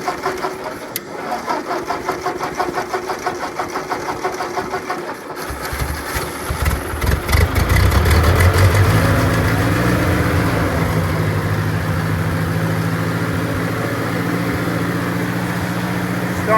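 A tractor that keeps stalling is cranked with a rapid rhythmic chatter of the starter, then catches and settles into a rougher, steady idle with low droning harmonics.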